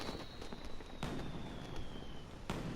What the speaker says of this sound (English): That's just a firework.